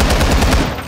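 MK17 MOD 0 SCAR-H battle rifle in Call of Duty: Modern Warfare II, firing a loud, rapid string of booming shots in quick succession, with no pause between them.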